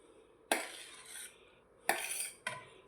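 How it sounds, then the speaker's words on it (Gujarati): Grated apple dropped into a pan of melted ghee for a fasting-day apple sheera, heard as a few sharp clinks and scrapes of a spoon against the pan with a soft sizzle between them, close and alone. "હવે નાખી દો સફરજનની છીણ,"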